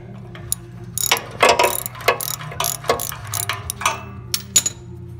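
A hand ratchet backs off a loose exhaust system bolt in quick bursts of sharp metallic clicking, with short pauses between strokes. It is close and fairly loud, with no talking.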